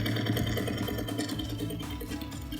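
An industrial sewing machine runs steadily, a dense mechanical whir with a fast repetitive stitching rhythm that holds at an even, moderate level throughout, with no voices.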